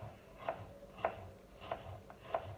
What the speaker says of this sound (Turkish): soğanımızı uzun uzun doğruyoruz